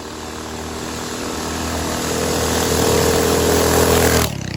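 A Coleman BT200X minibike with an out-of-tune carburetor revs hard as it speeds past, the loud buzzing engine note swelling steadily closer before dropping off abruptly.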